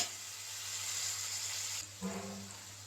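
Onion with ginger garlic paste frying in a pan for chicken biryani, a close, steady sizzle and hiss, with a brief stir or scrape near the end and no talking.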